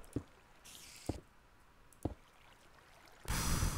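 Water flowing in the Minecraft video game: soft splashy drips and sloshes recur a few times at irregular intervals, then a louder broad rush of water swells at the end, with no speech.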